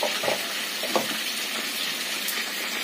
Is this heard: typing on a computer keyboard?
no